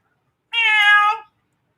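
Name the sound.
cat meowing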